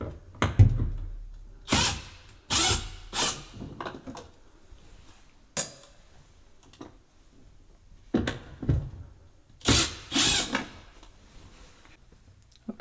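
Screws are backed out of a panel on a Samsung fridge that is icing up at the bottom, heard as scattered close knocks, clunks and scraping handling noises with quiet gaps between them and no talking.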